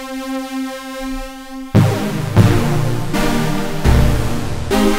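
A single note from Ableton's Drift synth in unison mode, its stacked detuned voices beating against each other in a rich, wide tone; a sustained pitch gives way to several strong repeated attacks that ring on without talk.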